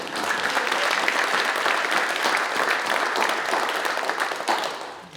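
Applause fills the Legislative Assembly chamber, a steady dense clatter of many hands clapping at close range that holds for several seconds and then tapers slightly at the end.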